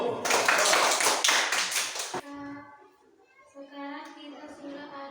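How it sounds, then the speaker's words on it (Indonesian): A school class claps hands together in a quick, loud burst of rhythmic claps that stops abruptly, followed by children's voices and a short sung phrase. "Ayo, tepuk tangan dulu."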